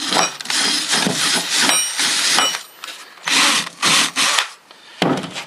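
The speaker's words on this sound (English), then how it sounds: "I'm just going to hit it with my wire wheel" A wire wheel scrubs rust off a screw bolt during a car motor restoration, a harsh whirring grind that comes in several loud bursts with short pauses between them, close to the listener.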